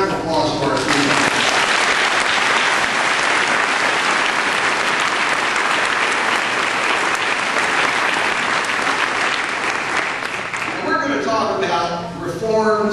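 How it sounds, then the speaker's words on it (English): A large audience gives sustained, dense applause for three guests at a political discussion, a steady loud roar of clapping that carries on for several seconds before tapering off. "So why don't you give a round of applause for our three members."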